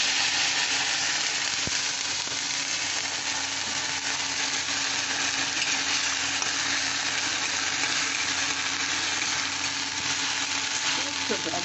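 Small diced potatoes with black cumin seeds fry in a pan, giving a steady, loud sizzle that holds evenly throughout with no talk.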